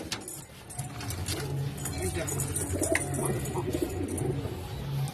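Pigeons at a cheap pigeon sale coo in low, repeated throaty phrases close by, with faint voices and light clinking in the background.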